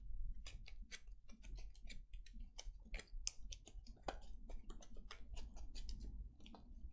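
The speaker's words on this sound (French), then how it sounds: "Donc je mélange bien son deck en fait." A deck of cards for the Mage Knight board game is shuffled close up, a rapid run of crisp riffling snaps and flicks over a quiet background, with no talking.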